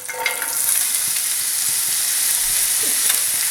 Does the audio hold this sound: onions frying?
yes